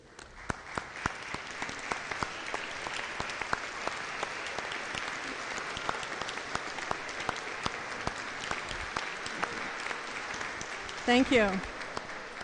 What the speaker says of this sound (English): I think it would be suitable to have those family and friends stand and the graduates applaud them.